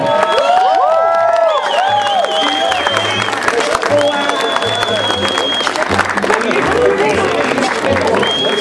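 Wedding guests applaud and cheer in a dense, lively wash of clapping and shouts, mixed with festive music and voices throughout.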